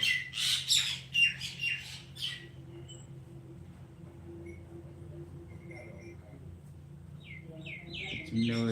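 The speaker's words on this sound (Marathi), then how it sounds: "चिमण्या वगैरे आता आल्या आपल्या घराला" Sparrows chirp in quick, busy bursts at the start, fall quiet over a low hum, then chatter again near the end.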